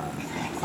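A puppy whimpers for a toy, a short, strained whining cry heard close up, lasting under a second.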